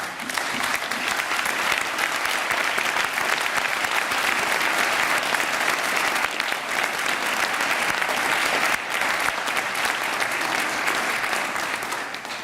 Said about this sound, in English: let's give them a round of applause for their attainment